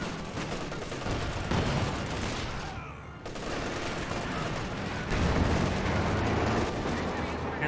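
Gunfire and rocket barrage from the Calliope in the Company of Heroes 2 video game, a dense continuous battle roar with layered shots and explosions, loud throughout, with a brief dip midway.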